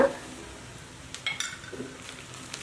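Fried onion being stirred with ginger paste, garlic paste and ground spices in a pan, scraping spoon strokes and light clinks over a soft sizzle.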